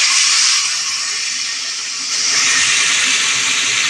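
Prawns hit hot mustard oil seasoned with kalo jeera and sizzle loudly, a dense continuous hiss that dips briefly and then swells again.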